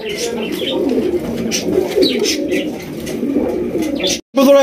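Pigeons of a large Bangladeshi breed coo steadily up close, one soft low call rolling into the next, with no talk and a short silence near the end.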